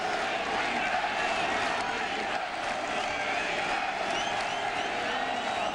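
A large football stadium crowd at a Nevada versus Nebraska college game roars in a steady, dense wash of cheering and applause that holds loud throughout without a break.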